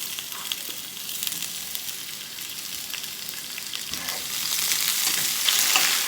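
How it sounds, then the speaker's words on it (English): Onions and peppers sauté in a cast iron skillet, giving a steady broadband sizzle throughout that swells a little louder toward the end, with no talking. "So now we're gonna get this sauteing in our cast iron skillet"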